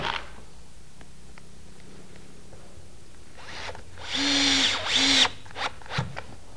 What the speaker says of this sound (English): secure the runners to the base using screws, spaced about every 6 inches